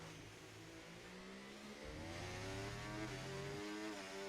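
A race car engine revs up through the gears at Spa in a racing game, with rising pitch sweeps and a shift partway through. The engine is steady and moderately loud, and nobody talks.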